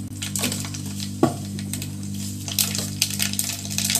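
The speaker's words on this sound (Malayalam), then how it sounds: "എണ്ണ ചൂടായിട്ടാ കടുകിട്ട് കൊടുക്കട്ടെ" Mustard seeds splutter and pop in hot oil in a Kerala home kitchen, with scattered sharp crackles over a steady sizzle and a faint electrical hum.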